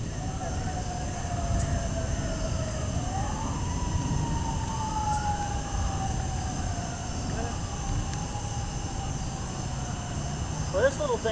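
Emergency sirens wail in the distance during a thunderstorm in Hamilton, Ohio, a faint rising and falling tone drifting over steady rain-like noise, with someone talking briefly.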